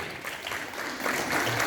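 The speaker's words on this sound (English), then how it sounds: "So a big round of applause for the staff of Tibetan Private ITI" Short burst of audience applause at an inter-trade skill presentation held at a Tibetan private ITI: steady, even clapping from many hands, moderately loud.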